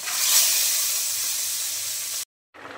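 Vegetable curry cooking in a very large wok, a loud, steady hissing sizzle that fades slightly, cuts to silence briefly, then resumes quieter.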